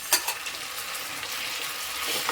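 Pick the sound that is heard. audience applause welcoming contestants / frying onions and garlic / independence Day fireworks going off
frying onions and garlic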